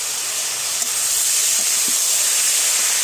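Ground spice paste of ginger, garlic, cumin, chilli, coriander and dried red chilli hitting a very hot pan, a loud continuous steamy hiss with no speech.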